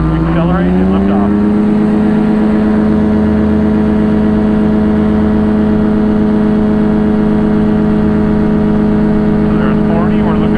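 A Challenger aircraft's engines throttle up on the runway for takeoff, a loud, steady droning roar with a rising tonal whine that climbs in pitch early on and then holds, with faint voices underneath.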